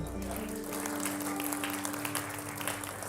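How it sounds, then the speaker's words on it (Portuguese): A church congregation applauds in praise of the Lord during a service, a continuous wash of clapping hands under a sustained musical tone and faint voices. "Você pode louvar ao Senhor com teu aplauso."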